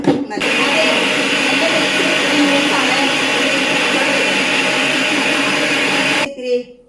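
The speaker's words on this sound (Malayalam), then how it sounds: "മിക്സിയിൽ അടിച്ചിട്ട്" An electric mixer grinder with a slightly loose washer blends cream and water into butter, a loud steady whirring drone running for about six seconds before cutting off abruptly.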